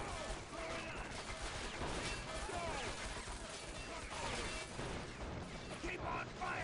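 Dense, continuous gunfire crackles through a Call of Duty campaign battle, a loud barrage of overlapping shots and impacts with voices mixed underneath.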